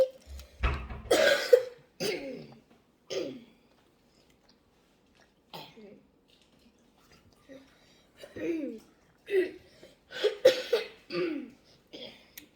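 Several short coughs scattered through the stretch, some in quick clusters, with quiet gaps between and a bit of voice mixed in.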